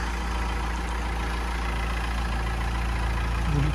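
A salvaged Meriva B car engine idles with a steady, continuous low hum and no breaks, close by and alone without talk.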